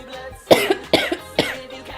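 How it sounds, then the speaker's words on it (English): Three harsh, close coughs in a row, spaced about half a second apart, each a sharp burst with a brief rasp after it. "Sorry again for coughing."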